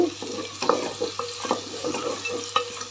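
Chopped tomatoes sautéing with turmeric in a pan on low heat for vangi bath rice, a soft steady sizzle broken by several clinks and scrapes of a stirring spoon.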